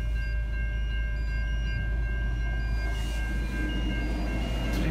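Freight train passing at Ovingham: a loud, steady, continuous low rumble and rolling wheel noise with faint high whines, close and unbroken throughout, with no talking.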